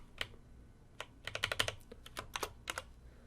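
Someone typing on a computer keyboard while entering code, a close run of quick irregular key clicks in bursts, quiet and with no talk over them.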